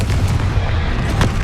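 A Confringo blasting spell detonating in the Hogwarts Legacy video game, a loud rumbling burst with heavy low-end boom and crackle that fills the short moment.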